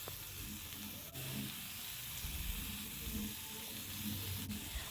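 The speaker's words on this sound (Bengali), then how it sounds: "এবার কড়াইতে খুব সামান্য পরিমাণে তেল দিয়ে ঝিঙ্গেগুলো হালকা করে নেড়ে নেব।" Ridge gourd stirred in a wok with just a little oil, giving a soft, steady sizzle and frying hiss, with faint scraping of the stirring throughout.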